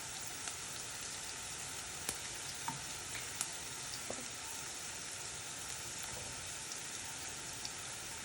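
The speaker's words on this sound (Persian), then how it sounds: "وقتی که روغن داره بابلی میشه، پف میکنه، میاد بالا، بهش میگن روغنش داغ شده داره جلز و ولز میکنه" Hot oil sizzling and bubbling in a pan while making an omelet, a dense steady crackle with occasional sharp pops, close and continuous with no voices.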